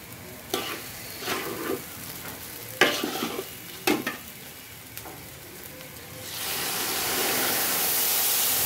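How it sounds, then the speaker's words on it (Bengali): Rice frying in a pot for chicken biryani, stirred with several sharp scraping strokes over a low sizzle, then a louder steady hiss of frying takes over for the last couple of seconds. "চালটা সুন্দর করে ভেজে নিচ্ছি।"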